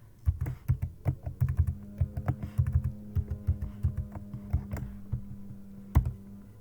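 Password being typed on a computer keyboard for a school-district Google login: a steady run of close, crisp key clicks with uneven rhythm and one sharper keystroke near the end, with no talking.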